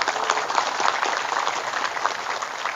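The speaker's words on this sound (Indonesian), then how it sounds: "Tepuk tangan dulu" Crowd applause at a Maulid gathering in an Islamic boarding school, many hands clapping in a dense, continuous patter at moderate loudness with no break.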